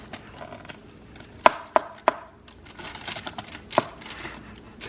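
A knife cuts through a Chicago deep dish sausage pizza on a cutting board. A few sharp, separate chopping thuds land irregularly, with quieter scraping and crunching of the thick crust between them.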